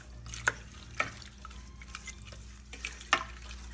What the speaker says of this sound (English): Throw that in, just maybe less than a cup, and then mix this together